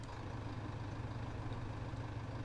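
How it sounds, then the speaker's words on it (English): A small diesel tractor engine idles in Farming Simulator 17, a quiet, steady low chug that holds evenly without revving. "There must be such a small engine in this, and I'm not used to hearing a little diesel."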